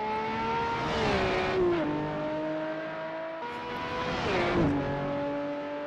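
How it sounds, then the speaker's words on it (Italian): Ferrari LaFerrari racing car engines in the Assetto Corsa video game at Spa roar past twice, their whining pitch swelling and then dropping sharply as each car goes by. No one talks. "Sentiamo qua subito il rombo di quando passa."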